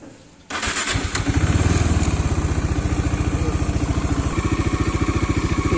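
A Bajaj Dominar 400 motorcycle engine cranks and catches, then settles into a loud, rhythmic idle thumping close by.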